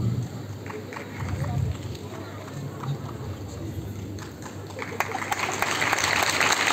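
Audience applause at a singing contest in Erbaa, a dense continuous patter of clapping from a crowd that holds steady and grows slightly toward the end, with voices mixed in.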